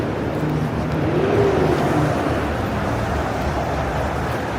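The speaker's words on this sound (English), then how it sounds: "Loud exhaust." A road vehicle with a loud exhaust rolls along a Manhattan street in the early morning, a low rumble swelling and fading over steady background city traffic noise.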